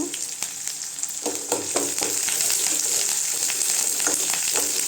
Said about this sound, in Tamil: எல்லாம் நல்லா சேர்ந்து வதங்கட்டுங்க